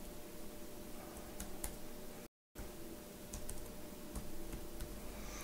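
A computer keyboard is typed on to name a new virtual machine: soft, quiet key clicks in a steady run, with a brief silent gap partway through and no talk.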